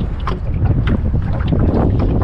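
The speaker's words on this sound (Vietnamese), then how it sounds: "Giờ này nước mới lớn mà gió cả này vậy." Strong wind roars across the microphone on a fishing boat at sea, a loud, steady, gusty rush that fills the whole clip.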